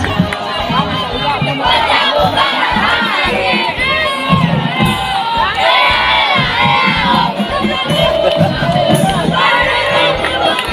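Loud crowd cheering and shouting at a scout camp gathering, many children's voices whooping and yelling together continuously, with clapping mixed in throughout.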